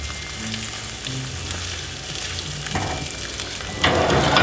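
Eggs fold and fry in butter in a pan under a spatula, giving a steady close sizzle with soft scraping strokes and a louder burst of frying near the end.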